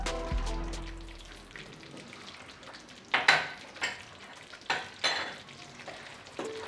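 Poha halwa flavoured with cardamom powder is stirred in a pan, giving a soft frying hiss broken by several sharp scraping strokes in the second half. The strokes are close and come at uneven intervals, and no one speaks.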